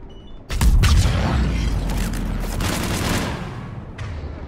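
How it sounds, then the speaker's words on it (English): Gunfire rattles toward the player in the video game Mass Effect 3, a loud, dense burst of booming shots and mechanical clatter lasting a few seconds, then fading into a quieter stretch with one last sharp crack. "You are shooting at me, aren't you?"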